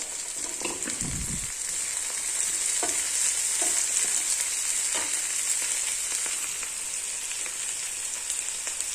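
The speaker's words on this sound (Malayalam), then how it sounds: "ഇതിലേക്ക് കറിവേപ്പില തക്കാളിയും കൂടെ ചേർത്ത് നന്നായി ഒന്ന് വഴറ്റിയെടുക്കുക" Shallots, curry leaves and tomato sizzle and fry steadily in a pan, with a few clinks of a stirring spoon against the metal over a constant hiss and no talking.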